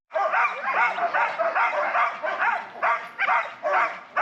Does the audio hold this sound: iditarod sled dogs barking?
yes